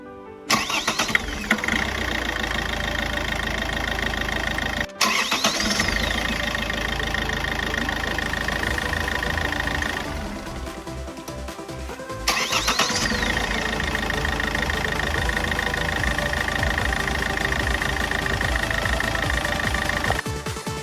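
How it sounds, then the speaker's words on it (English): A Toyota 2.0 D-4D diesel in an engine bay cranks on a freshly replaced starter motor and fires up, then runs at a loud, steady clattering idle before a brief dip and a second start that settles into idle again. "The starter works perfectly"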